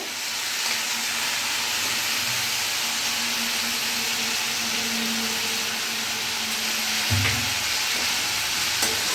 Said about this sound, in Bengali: এখন ভালো করে নেড়ে চেড়ে আমি একটু কষিয়ে নেব